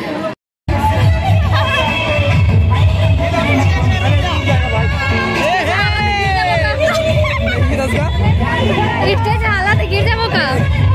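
A large crowd chatters loudly at a film promotional meet-up, a dense roar of many voices with shouts and calls rising above it, continuous after a brief cut near the start.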